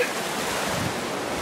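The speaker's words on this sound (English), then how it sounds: "So that was raging water." Raging water with waves surging as one steady broadband rush, loud and close, with wind buffeting the microphone and no voices.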